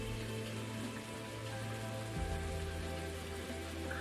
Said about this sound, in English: the rain is going to stir up the water, oxygenate it, and make the fish more active